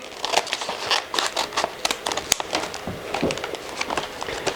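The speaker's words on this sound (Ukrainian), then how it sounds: "беремо ножиці, відкриваємо" Scissors snip and crinkle open a packet of biodynamic farm tea with basil, giving close, dry crackling and rustling in quick irregular bursts with no talking.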